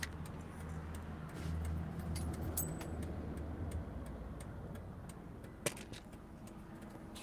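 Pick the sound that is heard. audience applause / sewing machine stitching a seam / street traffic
street traffic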